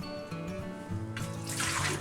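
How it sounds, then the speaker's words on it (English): Hot water pours out of a glass canning jar used for home-canned venison, a short close splashing gush that swells into a louder rushing splash toward the end. "empty the hot water out."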